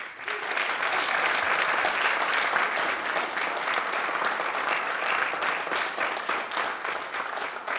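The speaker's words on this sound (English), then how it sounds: "warm round of applause to congratulate the newest members of Maynard High School's National Honor Society" An audience at a Maynard High School National Honor Society induction ceremony gives warm, sustained applause that stays dense and even for several seconds.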